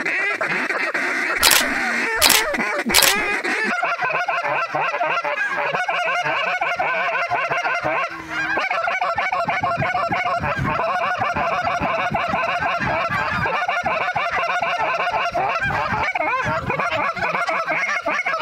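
A flock of Canada and snow geese honks continuously and loudly over a dry field during a waterfowl hunt, dense overlapping calls with a few sharp bursts early on.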